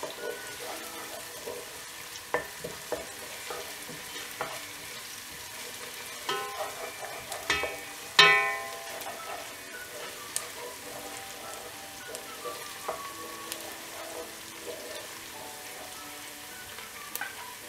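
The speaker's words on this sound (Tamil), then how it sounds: "பூண்டு இஞ்சி ஆட் பண்ணிவிட்டு இதை நல்லா ஃப்ரை பண்ணி விடணும்." Garlic and ginger frying with onions in a pan for paruppu urundai kuzhambu, a soft, continuous sizzle with occasional clinks of a spoon stirring against the pan, one louder scrape midway and faint running water in the background.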